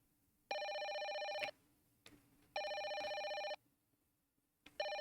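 A telephone rings in repeated electronic bursts, each about a second long with pauses between, fairly clear and close with a quiet background.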